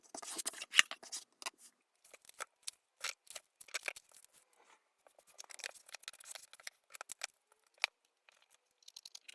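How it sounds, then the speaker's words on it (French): Scissors snip repeatedly through moistened gummed kraft paper, giving quiet, close crisp cuts in irregular clusters with brief pauses between them. "vous voyez que j'essaie de couper au même endroit d'un côté et de l'autre"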